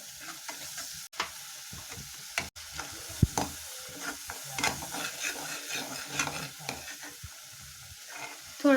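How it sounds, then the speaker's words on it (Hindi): Tomato masala frying in oil for an anda chingari egg curry sizzles steadily up close, broken by stirring scrapes and a few sharp clicks of a utensil against the pan. "हम इसे अच्छी तरह से ऑयल में फ्राई करेंगे।"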